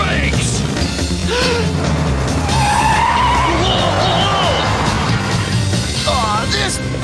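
Cartoon vehicle brakes hard and skids, a loud sustained tire squeal sweeping and wavering for several seconds over engine rumble, with voices shouting over it.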